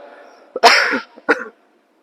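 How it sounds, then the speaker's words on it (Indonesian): Two harsh, throaty coughs sound close up, separated by a brief pause, followed by silence. "ini batuk soalnya dari tadi"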